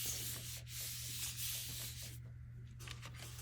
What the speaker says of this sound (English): putting this down on my Gelli plate, rubbing this with my hand, trying to pick up all that paint